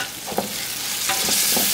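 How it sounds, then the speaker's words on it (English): Wine-braised short ribs are stirred in a pot, with soft scraping strokes heard over a steady, close sizzle. "I'm going to give this a nice stir."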